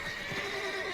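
A horse in The Witcher 3 video game gives a loud, close whinny, a brief rising-and-falling neigh with a faint hoof clop beneath it.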